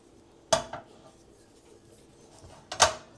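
Two sharp metallic clanks about two seconds apart as metal burner grates on a portable two-burner camping stove are flipped over, each hit close and bright against a quiet background.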